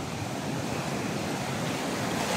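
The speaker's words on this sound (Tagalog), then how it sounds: "ragasan ang tubig" Rushing water in a forest stream surging suddenly deeper, a loud, steady broadband roar with no let-up throughout, close and dense like heavy surf.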